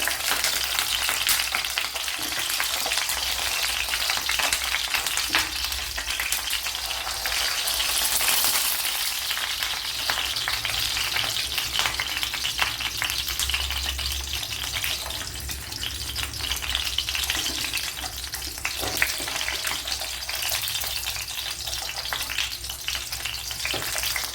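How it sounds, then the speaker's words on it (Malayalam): Citron pieces sizzle steadily in coconut oil for a pickle, a continuous close frying hiss with soft scrapes and clinks as a utensil turns them over, no voices. "ഇതിങ്ങനെ മറിച്ചും തിരിച്ച് ഇട്ട് കൊടുത്ത് വാട്ടിയെടുക്കണം"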